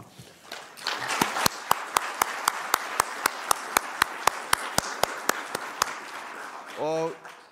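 An audience at the close of a meeting applauds the panel members with sharp, evenly spaced claps over a low murmur of the room, and a brief voice sounds right at the end.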